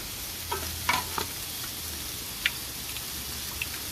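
Chicken and sausage cook in a pan with a quiet, even sizzle, broken by a few faint clicks and light taps from stirring.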